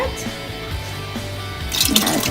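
Water splashes and trickles into a pot of vegetables being readied for Moroccan couscous, a soft pouring sound that grows into a brighter, louder gush near the end.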